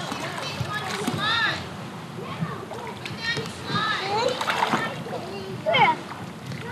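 A baby kicks her feet in a small pool, sending out scattered, close splashes and sloshing water, heard under an adult talking and a child's babble.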